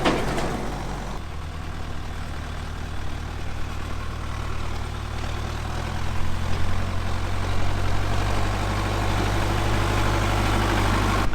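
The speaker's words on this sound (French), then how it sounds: "mon père amène le tracteur" A tractor engine idles steadily during a wheat harvest, a deep continuous rumble close by that holds its level throughout and grows slightly heavier partway through, with no talking.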